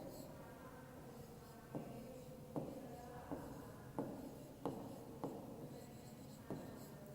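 Numbers are written in columns during a class 5 math lesson: faint, steady scratching of writing on a board or page, broken by several soft taps at irregular intervals in a quiet room.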